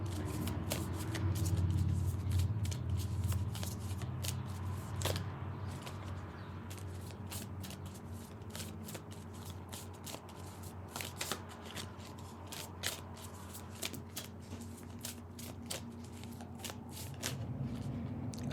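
Tarot cards being shuffled by hand, a continuous soft riffling and flapping with sharp card snaps scattered throughout, close and moderately quiet with no speech.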